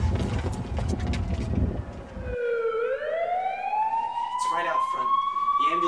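An ambulance siren wails out front, its rising tone sweeping up clearly and holding loud over a low rumbling background, with voices breaking in briefly near the end.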